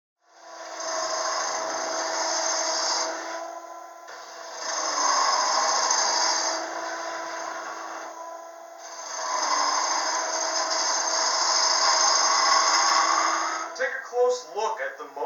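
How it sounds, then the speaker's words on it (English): A bowl gouge cuts the inside of a wooden bowl spinning on a lathe, a steady close rasping scrape in three long passes with brief pauses, ending in a few scattered knocks. "It's almost like the bowl gouge is on a pivot point, and the pivot point would be the tool rest."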